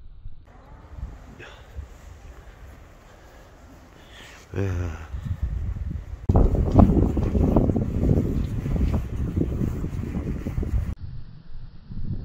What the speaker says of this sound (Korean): 와 나 바람 불어.